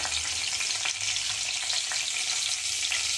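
Fennel, cumin and fenugreek seeds fry in hot oil left from cooking fish, a dense steady sizzle with faint crackles and occasional stirring scrapes, close and without talk.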